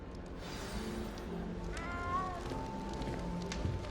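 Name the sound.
cat meowing in Hogwarts Legacy video game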